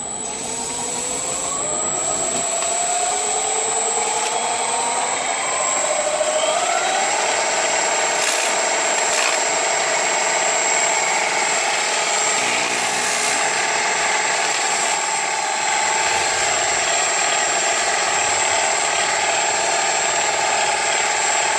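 Sieg mini lathe running at high speed while machining a carriage hand wheel, giving a steady, continuous high-pitched whine with a constant tonal hum and light cutting noise throughout, no talking.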